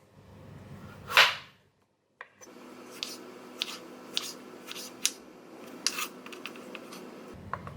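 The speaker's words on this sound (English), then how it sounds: "And then I'm going to cut thin slices like this." A knife slicing a hairy gourd into thin slices on a cutting board, a series of crisp, irregular chopping taps at close range, preceded by one louder swishing cut and a short pause.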